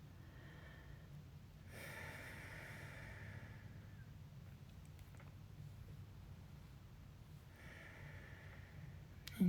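Slow breathing during a yoga child pose, forehead resting on the mat, with long soft breaths rising around two and eight seconds over a steady low hum; the breathing is close and gentle, and no one speaks.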